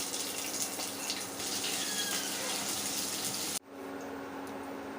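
Chopped onions going into hot oil already seasoned with a bay leaf, a dried red chilli and cinnamon, giving a steady, loud, hissing sizzle that stops abruptly near the end and settles into a quieter simmering hiss.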